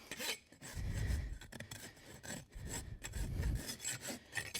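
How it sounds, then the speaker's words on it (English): Clinching rasp filed back and forth across clinched horseshoe nails on a draft horse's rear hoof, giving close, loud rasping strokes in a steady rhythm with no talk. "Take a clinching rasp, make them all the same length."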